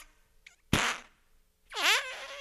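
A fart sound effect plays as a spectacular triple fart in a flamingo stance during a freestyle routine at a farting competition, with a short blast followed by a longer wavering, buzzing release, loud and alone.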